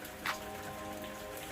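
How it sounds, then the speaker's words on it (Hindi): Heavy rain from a cartoon sound effect, a steady close hiss of pouring water with one brief brighter splash near the start. "तेज़ बारिश हो रही थी।"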